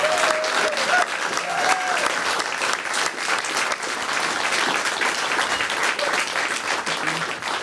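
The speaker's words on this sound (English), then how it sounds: "One more Summit round of applause for these folks." A small studio audience at a live radio session claps warmly and continuously for the band, dense applause running the whole stretch with scattered cheers and a brief voice near the start.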